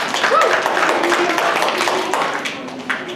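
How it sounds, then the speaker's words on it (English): Applause for spelling bee contestants, a moderate crowd clapping steadily for about three seconds that gradually thins, with voices mixed in underneath. "Can we just give these 3 round of applause?"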